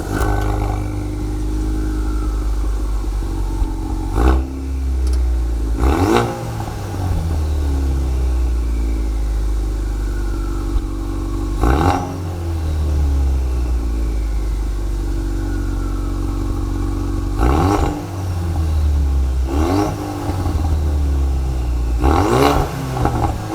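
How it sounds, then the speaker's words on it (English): Ford Focus RS exhaust under hard acceleration, a loud, deep burble rising through several revving pulls, with sharp pops and crackles as the throttle lifts between them. "So hard acceleration here in that burble, and then the pop as you're letting off the accelerator."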